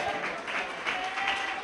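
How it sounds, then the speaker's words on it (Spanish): Church congregation applauding in praise of God, a steady wash of clapping from a crowd that holds evenly for under two seconds with some speech mixed in. "¿Cuánto dan un fuerte aplauso a Dios?"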